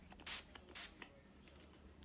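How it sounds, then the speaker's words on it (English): Two quick, close hissing bursts of Paul Mitchell moisture mist sprayed onto hair, followed by a fainter third puff, with a quiet room in between. "it's even saying spray generous on hair and skin"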